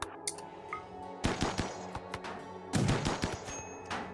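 Gunfire in the video game RimWorld, with several sharp bursts of shots and rapid volleys. They come in clusters, separated by short quieter gaps.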